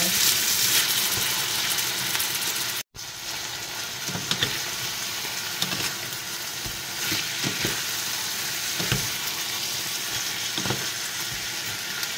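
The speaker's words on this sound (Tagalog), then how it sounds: "So, isasangkot natin siya. Palalabasin natin yung mga mantika ng chicken." Marinated chicken pieces stir-fried in a pan for pineapple chicken give a steady, loud sizzle and hiss with occasional stirring scrapes, brief clatter near the start, and no talking.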